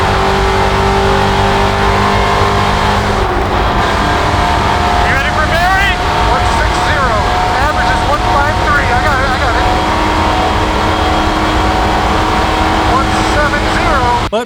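A 1994 Chevy Camaro racing car, built for closed-highway runs through the West Texas mountains, holds a loud, sustained engine drone with shifting tones, and talk runs over it throughout.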